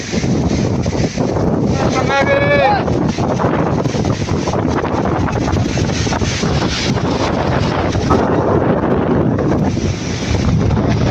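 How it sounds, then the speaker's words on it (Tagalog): Strong typhoon wind roars and buffets the microphone in a constant heavy rush outdoors during a harvest before the storm arrives, with a brief voice audible partway through. "kalakas ng hangin"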